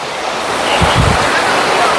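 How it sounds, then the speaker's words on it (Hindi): At the base of Bamani or Turga Falls in Purulia, a waterfall roars loud and close in a dense, unbroken rush, with a brief murmur of voice beneath it. "इस वाटरफॉल के बेस पर पहुंच गए हैं।"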